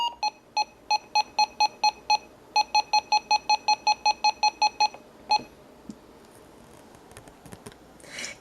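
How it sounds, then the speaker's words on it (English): A rapid series of short, identical electronic beeps from a RadioShack 12-382 radio scanner's buttons in two bursts, evenly spaced and clear, followed by faint rustling and clicks. "But here's the button beeps."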